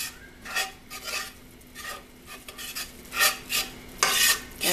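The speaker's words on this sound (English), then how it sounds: "And I'm just going to stir all this up." Flour being stirred into melted butter in a pan for sausage gravy, heard as repeated scraping strokes of a utensil that come in short bursts and grow louder toward the end, with no talking.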